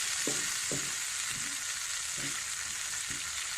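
Tomato ketchup being mixed into a frying potato Manchurian mixture, a constant hissing sizzle broken by five or six soft rhythmic spoon knocks against the pan, close and without voices.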